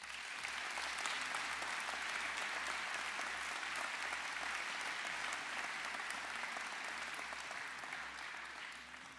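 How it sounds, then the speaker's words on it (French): Sustained applause from a concert audience of choir and Divertimento orchestra listeners, dense steady clapping throughout at a fairly distant, moderate level with a low hum underneath. "Je crois qu'on peut les applaudir."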